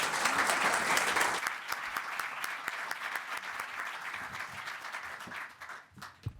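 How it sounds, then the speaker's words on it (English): An audience at a consumer-finance forum applauds its panelists: dense, steady clapping fills the room from the start, then thins gradually and trails off into scattered claps near the end. "Just everybody can have a round of applause for our panelists."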